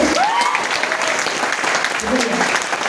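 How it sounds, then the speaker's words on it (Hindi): Seminar audience breaks into steady applause for a part-time earner's achievement, clapping close and continuous while someone speaks briefly over it. "तालियां बनती हैं सर"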